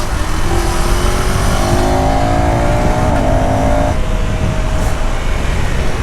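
KTM Duke 390 motorcycle engine revving through upshifts at fairly high RPM with a slipper clutch, a steady loud ride recording with rising and falling engine tones under strong wind rush.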